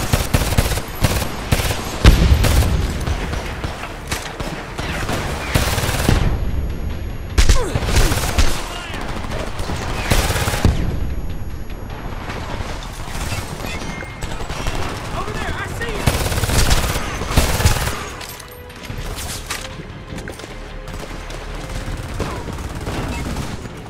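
Heavy gunfire in the video game Homefront, bursts of automatic fire and loud shots repeating across a firefight near a house and windmill, with shouted voices breaking through between the volleys.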